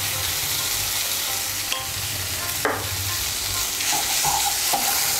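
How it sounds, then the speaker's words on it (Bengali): Raw mustard oil being stirred into cooked papaya and poppy seed paste in a pan, giving a continuous loud sizzle with occasional spoon scrapes and clinks, close by and without speech. "তেলটা পেঁপের সঙ্গে ভালো করে মিশিয়ে দেব।"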